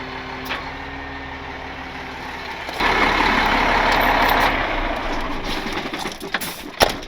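A tow truck's underlift is raised. After a few seconds of idling, a steady, louder mechanical hum from the truck's engine or hydraulics kicks in and holds close by, with faint bird coos in the background.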